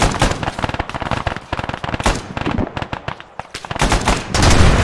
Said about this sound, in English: This 50 cal's firing.